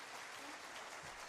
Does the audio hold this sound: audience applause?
yes